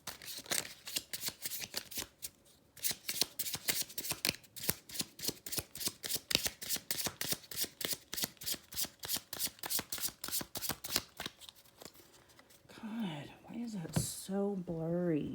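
A deck of poker-size playing cards is riffled and shuffled in a long, rapid run of crisp, close flutters and snaps, with a soft voice murmuring near the end.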